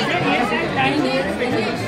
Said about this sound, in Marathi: गर्दी तर खूपच आहे.